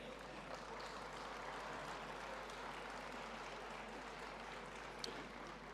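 Steady applause from an audience at a town's 2010 New Year's greetings ceremony, a dense continuous wash of clapping that holds at an even level throughout without pauses.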